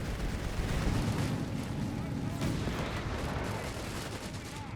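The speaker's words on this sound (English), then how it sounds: "Mortar rounds coming in on the Stas." Mortar rounds exploding in Company of Heroes 3, a dense rumbling barrage of booms and crackling blasts rolling on for several seconds, with game-battle noise layered underneath.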